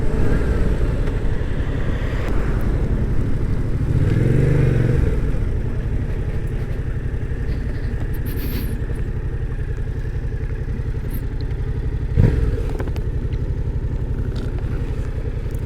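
A 2020 Yamaha MT-07 motorcycle rides through a series of bends, its engine droning loud and steady close by, with wind rush and a brief clunk partway through.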